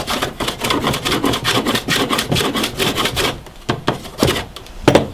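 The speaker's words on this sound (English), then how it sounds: "sanded down to the actual wood itself." Sandpaper worked back and forth over the wooden hull of a model ship, a fast run of loud, close rasping strokes that slows into a few separate scrapes near the end.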